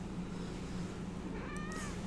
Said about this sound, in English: This is our government shutdown cat, Harrison.